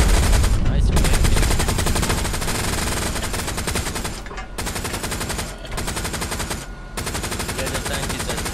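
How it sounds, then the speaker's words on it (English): Heavy gunfire from a tank in Hell Let Loose pounds out in long, dense sustained bursts, loud and close, with brief gaps between volleys. "That's our tank shooting, it's okay"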